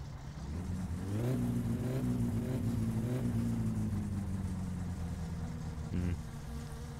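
An old car's engine in My Summer Car idles after the choke is used, a buzzy droning hum that rises in pitch as it revs, then settles and holds steady at close range.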